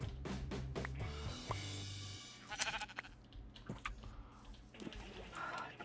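Sheep bleat in the video game Minecraft, with wavering game bleats near the start. Splashy, squishy game effects and brief talk follow.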